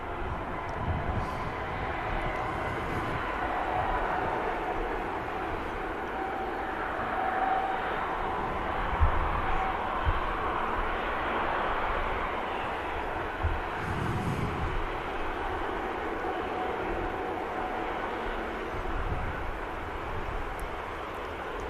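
An airliner bound for Antalya taxis at Manchester Airport, giving a steady, broad jet-engine rumble and whine that holds throughout at moderate distance, with no talk over it.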